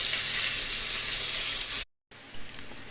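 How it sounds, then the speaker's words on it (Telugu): Ginger garlic paste frying with dried chillies, curry leaves and coriander in hot oil for beetroot charu, a steady loud sizzle that briefly cuts out and then resumes more faintly. "అల్లం వెల్లిపాయ పచ్చివాసన పోయేదాకా వేయించుకోవాలి."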